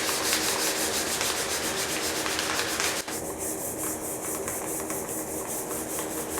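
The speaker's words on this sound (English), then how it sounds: "do some more sanding with some of the other grains" Hand sanding of wood with 220-grit sandpaper folded in half, a steady, close, scratchy rubbing in continuous back-and-forth strokes with no talk.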